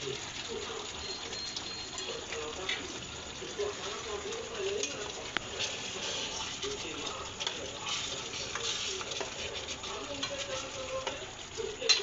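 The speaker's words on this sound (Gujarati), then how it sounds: "હવે આપણે બટેકા નાખી દઈ, બટેકા તરી લીધા હતા એ બટેકા નાખી દેવાના।" Pre-fried potatoes are tipped into a hot pan for dum aloo and stirred, giving a steady close sizzle with scraping and clattering of the utensil throughout and a louder clatter at the very end.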